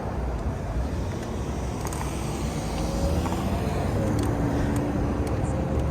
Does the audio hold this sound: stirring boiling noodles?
no